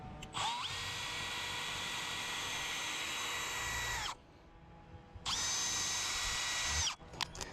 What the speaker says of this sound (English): I make a deep hole with this 1/8 inch probe bit